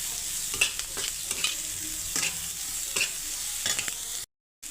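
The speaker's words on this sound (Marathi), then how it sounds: "कांदा मिरच्याला आपण परतून घ्यायचं." Chopped onion and green chillies sautéing in a pan for chicken lollipop, a steady sizzle broken by repeated scraping stirs of a spoon, close and continuous with a brief gap near the end.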